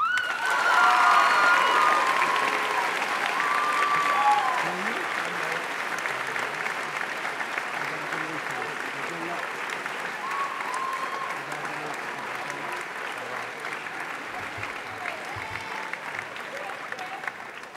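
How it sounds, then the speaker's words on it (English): A high school academic awards assembly erupts in loud applause with some cheering that gradually settles into a steady, softer clapping from a large crowd, with a few voices faintly heard beneath it. "join me in a big round of applause for Quinn and Noah."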